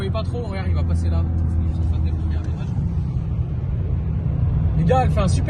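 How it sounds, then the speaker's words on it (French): An Audi RS5 V6 on its stock exhaust rumbles past nearby, a deep steady drone swelling under the car, while people talk in French over the engine noise. "elle fait un super bon bruit quand même la RS5 quand on l'entend passer"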